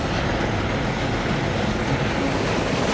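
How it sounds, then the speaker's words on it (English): A helicopter roars steadily overhead, its loud rotor and engine noise a dense, continuous wash with no voices. "That is the sound of a helicopter."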